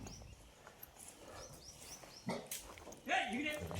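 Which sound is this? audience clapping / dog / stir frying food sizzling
dog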